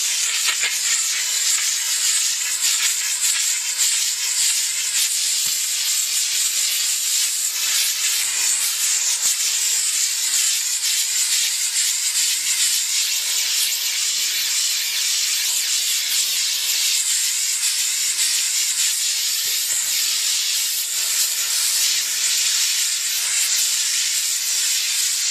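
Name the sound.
JNX-3000 car interior steam cleaner releasing steam on seat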